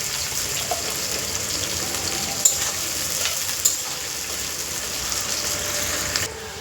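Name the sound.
frying vegetables, carrots, in oil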